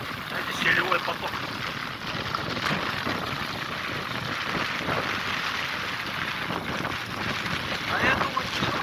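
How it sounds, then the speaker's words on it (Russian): A mudflow of water rushes down from a mountain toward a river, making a continuous roaring broadband surge with gusts of wind buffeting the microphone and no pauses throughout. "Это селевой поток."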